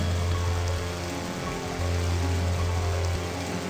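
Waterfall water rushing in a steady, loud, broadband roar with a low hum underneath, continuous and unbroken throughout.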